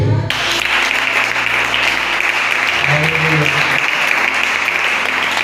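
A church congregation at a Sunday sermon bursts into loud, continuous applause and acclamation, a thick wash of clapping with low tones humming underneath throughout.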